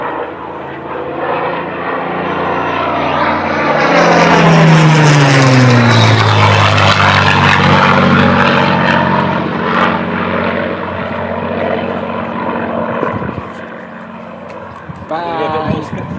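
A Spitfire flies past at an air display, its propeller engine roaring loudly as it approaches and recedes with a clear pitch drop, a sustained close pass lasting many seconds, with spectators talking faintly.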